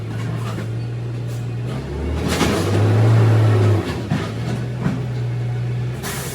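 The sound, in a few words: garbage truck arriving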